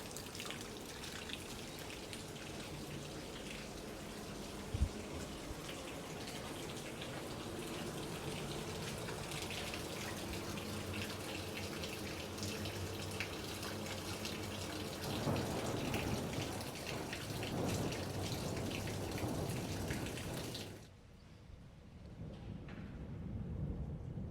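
A storm with heavy rain roars steadily over a theatre yard, with a sharp crack early on and a swelling surge of downpour before it cuts off sharply near the end.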